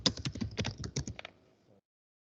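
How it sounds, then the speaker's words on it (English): Rapid clacking of keystrokes on a computer keyboard, a dense burst of close taps that thins out and stops after about a second and a half, with no voices. "What I'm typing here."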